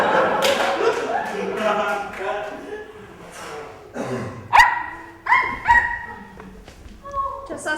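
A puppy yips and barks in several short, fairly close bursts over the second half, mixed with talking and household sounds.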